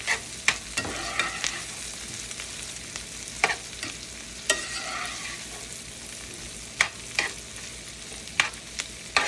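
Minced garlic frying in a pan for shrimp scampi pasta, a low steady sizzle broken by regular sharp spoon taps and scrapes as it is stirred, close by, with no speech.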